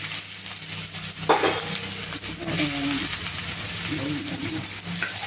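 Mustard seeds and onion fry in a pan, a steady hiss of sizzling with a few sharp pops and some stirring scrapes throughout.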